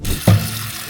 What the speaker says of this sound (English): we are gonna drain the water and put cold water over them so they don't continue cooking